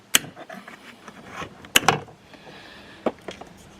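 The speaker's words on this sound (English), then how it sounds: "Just want to pry it away from the door card." Plastic BMW door trim being pried off the door card, giving sharp cracking snaps of releasing clips and creaks, a few loud pops spaced apart with quieter rustling between, close up and without talk.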